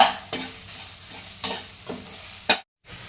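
Scrambled egg being stirred in a pan for egg rice, a faint sizzle broken by several distinct scraping strokes of a spoon spaced about a second apart, no talking.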